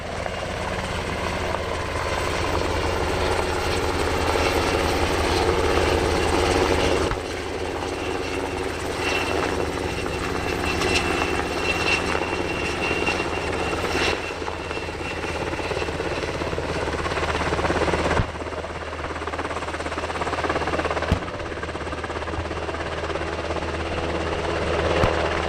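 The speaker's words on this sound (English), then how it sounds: "Next, 2 further Blackhawks arrived to extract a casualty." Black Hawk military helicopters arriving at the EAA AirVenture Oshkosh 2023 air show, a loud continuous rotor roar and thumping engine drone holding steady with shifts in intensity as the aircraft approach.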